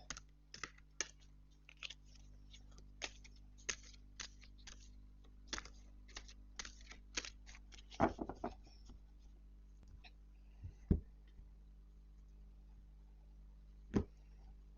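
A deck of angel cards is shuffled quietly and close up, giving a string of soft, irregular card riffles and taps against a low background hum.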